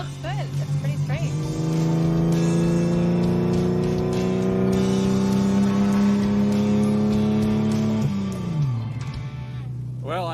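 A Pontiac engine runs steadily with a rising drone as it revs, then drops back to a lower idle near the end.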